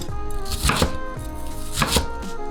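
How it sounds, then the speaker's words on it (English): A knife chops an onion into large chunks on a cutting board while pasta soup is being cooked, landing a few sharp, close strikes over a steady background hum. "I'll go ahead and cut the onion"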